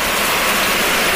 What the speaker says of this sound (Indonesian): Tapi mah tahu-tahu hujan deras ini.